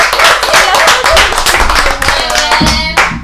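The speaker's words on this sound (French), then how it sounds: "Est-ce qu'on peut acclamer pour les Stades?" Audience at a quiz-style génie en herbe match in a club loudly applauding the winning team, with dense, steady clapping from many hands close by, tapering slightly near the end.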